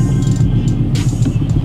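A 700 hp Ford Mustang GT engine drones steadily from the cabin while driving, a loud low rumble holding constant with no talk over it.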